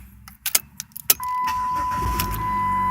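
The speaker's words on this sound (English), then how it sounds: "car starts right up" Keys jingle in the ignition of a 2004 Chrysler PT Cruiser, then the engine cranks and catches and settles into a steady idle close by.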